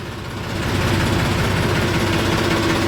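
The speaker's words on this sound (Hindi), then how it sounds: "बिल्कुल ट्रैक्टर की गोल आवाज़ है" A tractor engine idles steadily nearby, a constant low rumbling drone that swells slightly at the start and then holds even.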